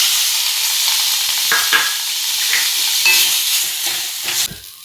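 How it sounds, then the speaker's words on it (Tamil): Curry masala powder and tomato frying in a hot pan, a loud continuous sizzle and hiss with faint stirring scrapes, close up and steady throughout. "கறி மசாலா பொடி போட்டுக்குவோம். தக்காளி 1 போட்டுக்குவோம்."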